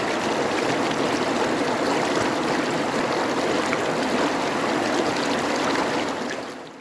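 A stream in New Zealand's Lawrence River flows with a steady, dense broadband rush of water, continuous and close, holding level throughout before easing slightly at the very end.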